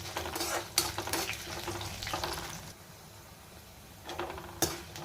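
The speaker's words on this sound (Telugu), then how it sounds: "ఇప్పుడు ఇందులోనే కారంకి తగ్గట్టుగా అన్ని మిరపకాయలు వీటిని కూడా బాగా ఫ్రై చేసుకోవాలి" Chillies frying in a pan for a coriander-tomato chutney, a steady close sizzle with intermittent stirring scrapes and clatter from a utensil against the pan.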